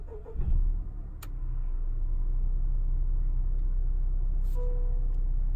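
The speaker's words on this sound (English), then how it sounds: "I'm just gonna go ahead and turn on my car back again." A 2018 Honda Accord starts up after a brief click and crank, then settles into a steady low idle heard from inside the car, with a faint chime near the end.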